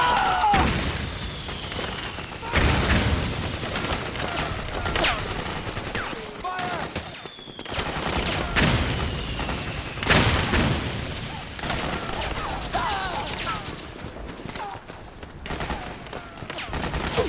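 Sustained gunfire and booming explosions in the video game Metal Gear Solid 4, set in a South American jungle: loud, dense bursts of automatic fire with heavy blasts recurring throughout the battle.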